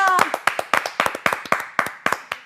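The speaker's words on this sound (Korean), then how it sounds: "박수." Rhythmic group clapping on a Korean talk show, about a dozen sharp, evenly spaced claps in a brisk beat, close and loud, led in by a brief voice at the start.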